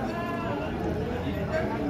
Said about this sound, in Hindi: ये बहुत बड़ी है भेड़